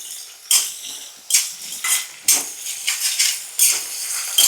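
Coriander, mint, fenugreek leaves and curry leaves fry in a pan, heard as a run of sharp utensil scrapes and clinks stirring the greens at a steady rhythm, close and fairly loud.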